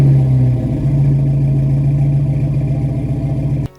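An Opel CIH car engine runs close by at a steady, slightly lumpy idle with a mild rev at the start, then stops abruptly.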